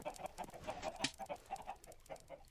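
Chickens clucking in Minecraft, a quick run of short, quiet clucks in a steady patter with no talk over them.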